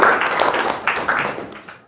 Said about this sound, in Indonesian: Tepuk tangan buat teman kamu.